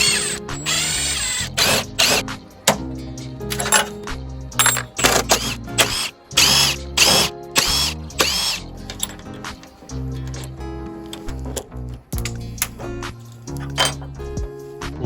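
A power tool backs out fasteners on the fiberglass bumper of a 1977 Porsche 911 IROC project, with loud repeated whirring bursts separated by short pauses and clicks, close to the mic.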